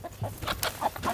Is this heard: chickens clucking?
yes